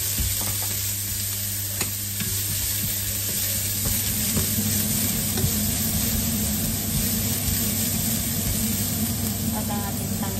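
Ginger added to hot oil with garlic chili oil and lemongrass for arroz caldo, giving a steady, dense sizzle and frying crackle throughout, close and loud with some stirring and no voice.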